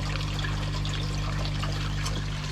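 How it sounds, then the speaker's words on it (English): A small stream of water trickling out of a koi pond filter outlet, a soft steady dribble and splash under a constant low pump hum, close and even throughout. "Still got a trickle coming out over on that side"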